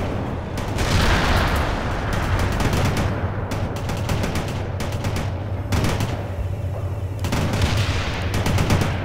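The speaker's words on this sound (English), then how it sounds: "Bradley firing from position" Bradley armored vehicle weapons firing during a World in Conflict battle: dense, sustained bursts of gunfire and booms, loud and continuous with repeated sharp cracks throughout, mixed with heavy battlefield rumble.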